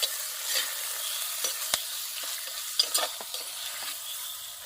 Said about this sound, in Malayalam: ഉള്ളി സവോള എല്ലാം വഴറ്റിയെടുക്കുന്നു.